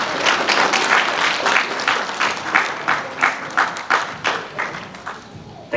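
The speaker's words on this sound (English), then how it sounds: "Keep the clapping going" An audience at a graduation ceremony applauds in sustained clapping that gradually thins into fewer, more distinct claps toward the end.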